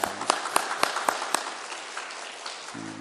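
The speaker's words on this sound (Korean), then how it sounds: "우리 잘 다녀오시라고 격려의 박수 하겠습니다" A church congregation gives encouraging applause, a handful of distinct claps that quickly thin out, followed by a brief low voice at the end.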